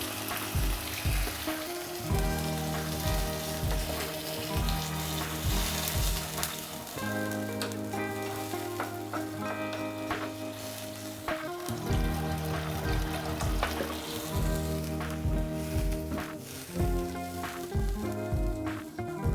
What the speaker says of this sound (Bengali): একটু সামান্য ভেজে নিলাম, নিয়ে এবার জলটা দিয়ে দিলাম।